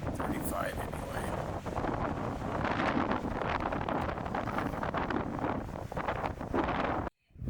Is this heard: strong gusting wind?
yes